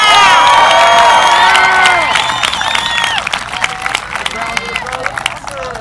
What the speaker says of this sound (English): would you please extend a round of applause to our amazing faculty and staff